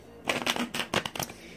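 Tarot cards being shuffled by hand, a quick run of soft papery riffles and flicks about a second long, close and fairly quiet with no talking.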